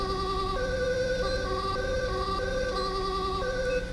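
An ambulance siren in GTA 5 cycles in a clear two-tone alternating wail, steady and moderately distant, with no voices.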